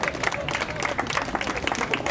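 A crowd applauding, a dense burst of many hands clapping at once, with voices mixed into the noise.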